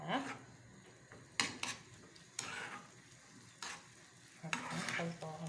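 Onion, tomato paste and egg fry together in a pan, with a quiet sizzle under repeated clattering stirs of a utensil against the pan. Short bursts of scraping come in irregular intervals.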